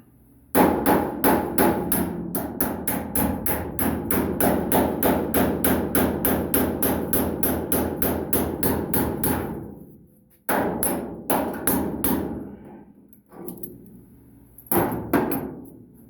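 Steady hammer taps on a part of a 1933 Plymouth coupe door, a long rapid run of sharp metallic strikes that pauses, then resumes in shorter bursts, close and loud with no talk.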